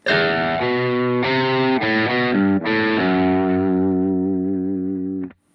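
A distorted electric guitar through the Reamp Studio amp simulator strums a few sustained, thin, mid-heavy chords, each ringing out and bleeding into the next, before cutting off abruptly.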